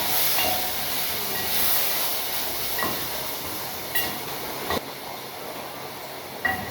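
Diced raw green mango sizzling in a pan for pickle, making a steady frying hiss with a few sharp crackles and pops, close and without talk.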